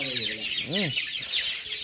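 Many chickens cluck and squawk at close range during pox vaccination of a 32-day-old flock, over a dense background of flock chatter, with one rising-and-falling call standing out.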